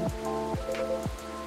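Steady rain falls outside in the game Coffee Talk, a dense continuous patter heard alone under gentle tonal music with falling notes.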